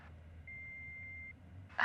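A single steady electronic answering machine beep holds for under a second, clean and moderately loud over a faint low background hum.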